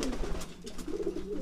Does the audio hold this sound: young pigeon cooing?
yes